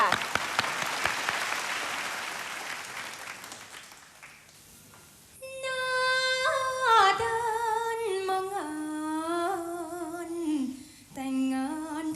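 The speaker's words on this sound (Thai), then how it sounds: "อับปรบมือค่ะ" An audience at a Thai school event claps for about four seconds, with the applause fading out. After a short lull, a solo singer begins a slow, sustained song.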